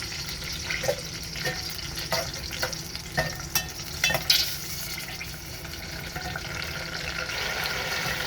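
Garlic cloves fry in hot oil for an eggplant chutney, a steady sizzle punctuated mid-way by a run of sharp spoon knocks and scrapes against the pan, then settling back to an even hiss.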